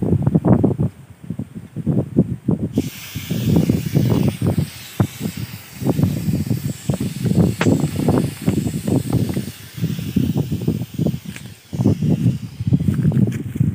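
Air leaks from a weakly pressurised tank valve in loud, close, rhythmic bursts of hissing that repeat in quick pulses for the whole stretch, with no voices.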